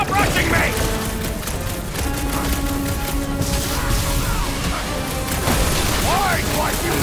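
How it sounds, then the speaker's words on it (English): Gunfire and explosions fill a chaotic fight against cultists in Marvel's Guardians of the Galaxy on PS5. Loud booming blasts and rattling shots pile up continuously, with character voices mixed in. "Sounds like a lot of Flark and gunfire!"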